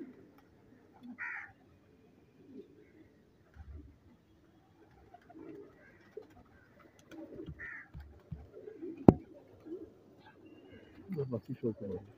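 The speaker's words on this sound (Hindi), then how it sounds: "ये इंडियन सड़े लाखे कबूतरों में से निकला हुआ कबूतर है दोस्तों।" Indian pigeons of the Lakha breed coo softly in short, scattered bursts, with someone talking over and between the calls and other birds faint in the background.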